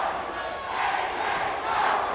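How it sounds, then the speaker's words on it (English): Wrestling arena crowd at an AJ Styles versus D'Lo Brown match roars and chants in a dense, sustained wall of cheering that swells twice, loud and continuous with no single voice standing out. "Crowd right now fully behind D'Lo as they're just letting AJ know what they think about him."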